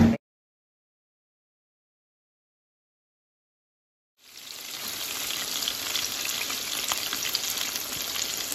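Fish sizzles in a frying pan after being flipped, cooking on its second side for a fish and grits meal; after about four seconds of silence a steady, close, even frying hiss rises and holds to the end.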